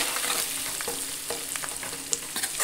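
Curry with turmeric is stirred and mixed in a sizzling pan, a close spoon scraping and rhythmic stirring over a bright, continuous frying hiss.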